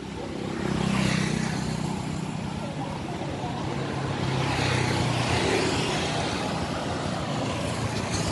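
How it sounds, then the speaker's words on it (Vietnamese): A 2009 Honda Future Neo motorcycle engine idles quietly with its stock exhaust, giving a smooth, even low hum that runs throughout while someone talks over it. "Máy đang nổ nha anh em."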